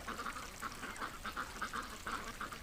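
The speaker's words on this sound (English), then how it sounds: "The ducks are playing in the runoff from the washing the pen out here." A flock of rescued ducks quacks steadily and close by as they splash in runoff from a freshly washed pen, the calls coming in quick, overlapping pulses throughout.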